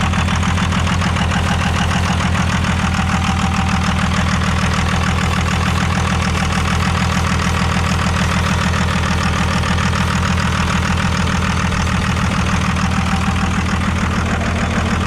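A second-generation 24-valve Cummins diesel pickup engine idles roughly while missing a cylinder, giving a loud, continuous uneven knocking chug close by.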